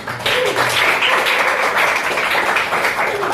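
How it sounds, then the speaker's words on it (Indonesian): Students in a classroom applaud a presenting group, steady close clapping from a small crowd, fairly loud and continuous throughout. "Beri tepuk tangan."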